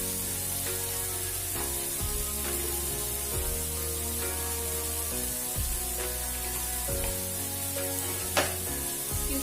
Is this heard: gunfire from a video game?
no